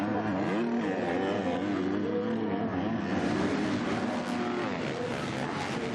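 EMX250 motocross bikes racing at the MXGP of The Netherlands, engines revving and whining past in a continuous loud roar that rises and shifts in pitch as the riders approach.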